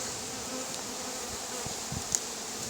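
Honey bees swarm and hum around an open polyurethane foam beehive during a colony inspection, a dense, steady buzzing that fills the whole stretch with no voices over it.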